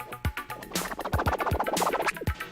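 Rapid no-fader turntable scratches on a vinyl record, a dense run of fast whips and quick back-and-forth waves with sharp percussive attacks, close and fairly loud with no voice.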